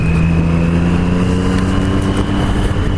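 A Triumph Street Triple 765RS motorcycle engine revs on a downshift, a loud, close, continuous roar with a steady buzzing tone and wind rush throughout.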